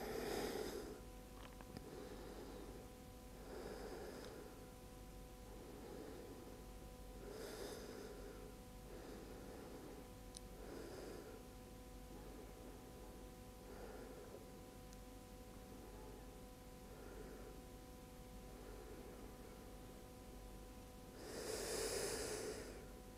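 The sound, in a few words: deep breathing during yoga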